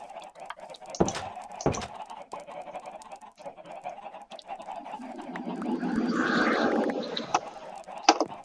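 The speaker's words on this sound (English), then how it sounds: "I hear a lot of chickens." Chickens in a video game cluck and squawk in a dense, busy flock, with a louder burst of calls building toward the end and a few sharp close squawks.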